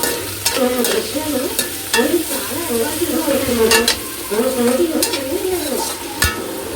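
Onions frying in a pan with salt added, a steady sizzle under repeated stirring and scraping, while a loud television plays in the background.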